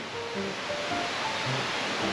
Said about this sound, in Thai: มันเป็นน้ำตก